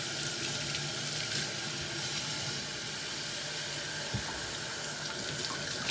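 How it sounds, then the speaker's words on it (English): A kitchen tap runs steadily while food for a chicken and shrimp dish is rinsed beneath it, giving a constant close hiss of flowing water with no talking. "So a little rinsing all of this."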